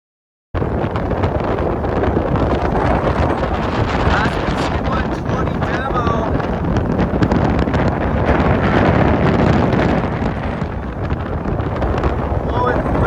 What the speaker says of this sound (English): Blowing 30 knots